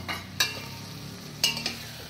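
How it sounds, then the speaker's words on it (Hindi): Spices and a spoonful of yogurt being stirred in a kadhai for Amritsari kadhai aloo, a soft continuous sizzle broken by two or three sharp spoon scrapes against the metal, close by and with no talking. "अब इनको अच्छे से हिलाएंगे।"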